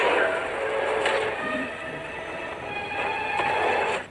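A train rumbles and screeches along the rails, with metallic squeals rising and fading and a voice underneath.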